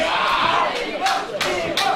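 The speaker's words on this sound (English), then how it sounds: "Certainly people who are cheering on both." A wrestling crowd at a live match shouts and chants, split between two wrestlers, with loud rhythmic bursts of cheering rising over a continuous roar of voices.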